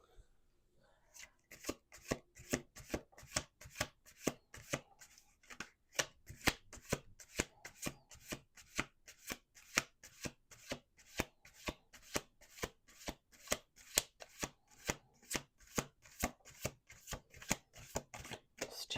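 Rapid, steady riffling of tarot cards being shuffled, crisp repeated bursts with brief pauses between rounds, close and clear with no talking.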